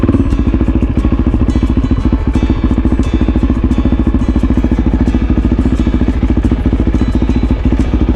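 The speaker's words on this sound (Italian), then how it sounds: "Mettiamo la moto nel parcheggio riservato alle moto." A motorcycle being parked in a designated bike parking area in Sardinia runs close and loud, its engine a steady, rapidly pulsing rumble that holds throughout with light clatter and no talking.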